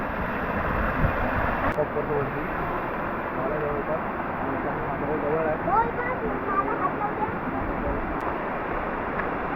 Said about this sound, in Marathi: तुम्हाला ह्याच्यातून मी दाखवतो वॉटरफॉल कसा दिसतो काय असतो सगळं दाखवतो